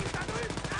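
Rapid automatic gunfire in the Wolfenstein Youngblood shooter game, a quick burst of evenly spaced shots lasting under a second, moderately loud.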